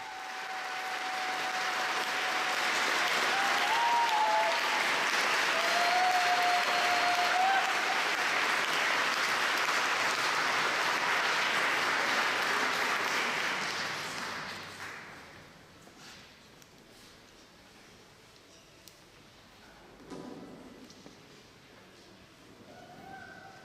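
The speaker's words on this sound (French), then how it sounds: "l'Assemblée a applaudi les 2 nouveaux diacres" A church congregation applauds two newly ordained deacons at Saint Médard, with long steady clapping filling the space before it tapers off into quiet room noise and a few stray sounds.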